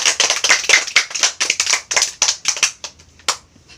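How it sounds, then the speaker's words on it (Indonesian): Classroom applause for a student, a short burst of close hand claps from a small group that thins out and stops within a few seconds. "Oke, mari kita berikan aplaus kepada Kakak Oktaviana."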